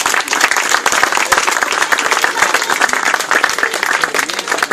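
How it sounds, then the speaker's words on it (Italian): Steady, dense applause from an outdoor crowd at the Mogliano flower festival, many hands clapping evenly and loudly without a break for the whole stretch. "e quindi un applauso"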